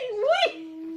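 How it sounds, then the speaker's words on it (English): A dog gives one short, high, rising-and-falling whimper up close, ending in a thin sustained whine, with no talking over it. "Look at Tyler and the dog, babe."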